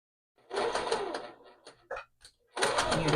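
A sewing machine stitches a witch cape for a doll in short bursts, a close whirring run followed by a few brief clicks and then another quick stitching burst.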